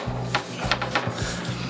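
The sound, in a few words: sliding a reptile enclosure panel down into its frame track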